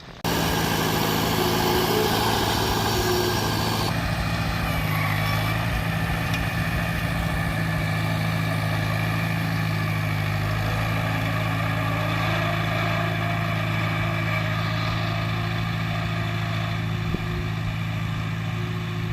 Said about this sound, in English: you've never driven a tractor that does this, it is a lot harder than it looks